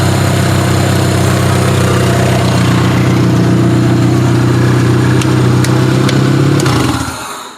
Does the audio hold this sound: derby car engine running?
yes